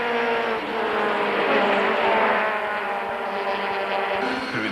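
Anthony Taylor's Audi touring car at full throttle from inside the cabin during a 1999 race at Kyalami, a loud, steady engine drone with a shifting pitch and no voices.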